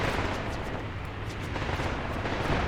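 Enemy guns fire in a Graviteam Tactics Mius tank battle, a dense rumbling barrage of booms and shots rolling on without pause.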